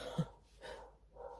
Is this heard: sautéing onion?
no